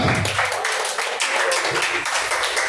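Congregation clapping in a church service, a steady, dense, loud patter of many hands filling the room without pause, with voices faintly mixed in.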